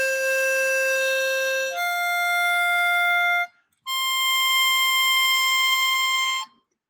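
A harmonica plays three long sustained notes in turn, each a bright, reedy tone rich in overtones, with a short silent gap before the last, loud and close with no talking.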